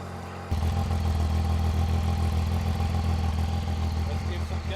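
A Zontes 703F triple-cylinder adventure motorcycle in sport mode cranks and fires up, then settles into a loud, steady, rumbling idle heard close by.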